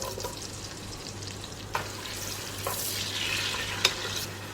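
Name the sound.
onions frying in ghee in pressure cooker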